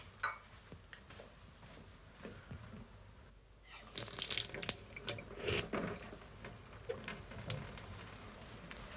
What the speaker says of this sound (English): Well, I'll just check the taps.